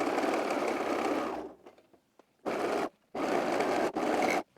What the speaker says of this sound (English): I'm going to serge this sleeve seam toward the sleeve